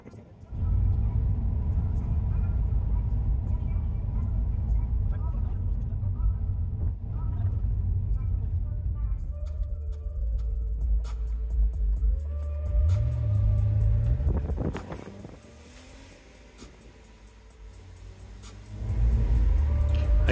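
A car engine pulls away and accelerates on the road, a rumbling drive with a rising rev partway through, and people can be heard talking inside the car.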